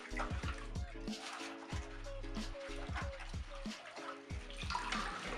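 Tap water runs and splashes over a motorcycle foam air filter being rinsed in a basin, with uneven pouring and clattering handling noises close by.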